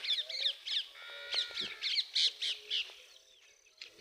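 Crows caw repeatedly in a village, a string of harsh calls in uneven bursts at moderate distance, with a few smaller bird chirps mixed in.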